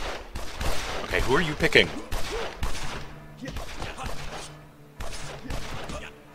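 Rapid bursts of gunfire from the Evil Genius video game rattle in clustered volleys, with short pauses between them, while a person speaks briefly over the shooting.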